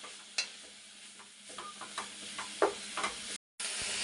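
Chopped dill leaves and green chillies fry quietly in a pan for sambar, with a low sizzle under scattered spatula stirs and taps, followed by a brief silence near the end.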